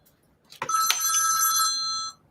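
A telephone gives a single bright ringing burst, clear and close in a quiet room, with no voices.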